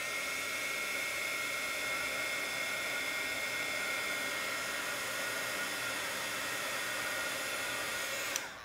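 A heat tool blows a steady, loud whoosh with a faint whine while heating embossing on a card, running unbroken for several seconds and then cutting off abruptly at the end.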